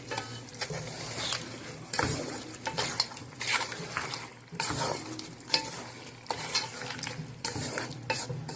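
Lamb chops and kidney cooking in oil in a pan are stirred vigorously, with repeated rhythmic scraping and clanking of a utensil over a steady sizzle, close and fairly loud.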